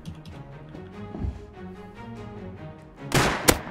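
Gunfire in Rust: a few sharp shots, with a loud cracking burst near the end over a low rumbling background, fairly close.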